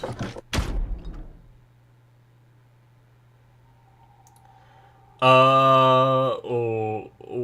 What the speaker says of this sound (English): After 2 more decompressions, the last door finally opened.